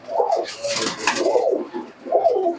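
Pigeons in a pigeon shop coo up close in a few deep, rolling, throaty phrases that rise and fall, with short pauses between calls.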